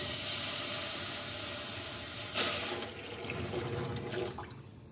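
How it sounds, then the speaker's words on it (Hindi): Water is poured into a cooking pot holding peas for boiling, making a steady, loud rushing splash that ends in a brief surge and then fades to a softer trickle. "बर्तन में हम मटर ऐड कर देते हैं और साथ में पानी ऐड कर देते हैं मटर को बॉईल करने के लिए"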